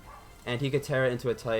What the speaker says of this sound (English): My dog is barking because my food is here.